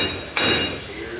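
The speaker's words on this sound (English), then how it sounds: "All I gotta do now is smack the back of this thing with a hammer." One sharp metallic smack rings out as a hammer strikes the back of a bent 28-spline axle on a Chevrolet C10 truck, loud and short over quiet shop room tone.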